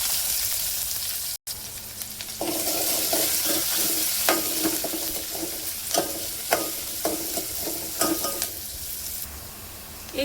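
Onion sizzling in a hot oil tempering of mustard seeds, cumin and curry leaves for a Vidarbha-style urad dal, a loud steady crackle with repeated scraping stirs and clinks of the spoon against the pan.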